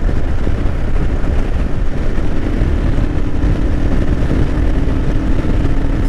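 A Royal Enfield Himalayan big-bore motorcycle cruises at about 4,000 RPM and 55 mph on a windy day, a loud steady engine drone mixed with heavy rushing wind buffeting, continuous and close.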